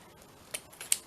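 Scissors snip through thin wire on a Christmas tree embellishment, giving two or three short, sharp clicks close by in an otherwise quiet room.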